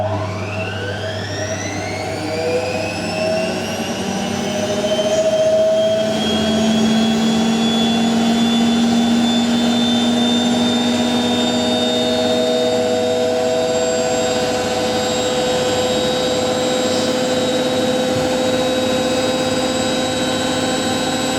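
A Hotpoint 9530 washing machine spins up to about 1100 RPM on a woollens wash, a loud sustained rising whine with steady tonal hums and broadband rush that builds over the first seconds and holds near, with no talk.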